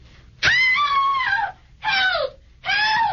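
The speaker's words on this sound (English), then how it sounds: "Scream." A woman screams three times at close range: a long, loud, high-pitched scream followed by two shorter wailing cries, each separated by a brief breath.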